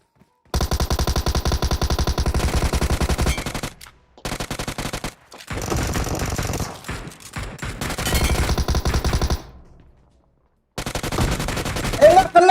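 PUBG Mobile gunfire in long, dense automatic bursts, loud and close, separated by brief silences, with a sharper burst near the end.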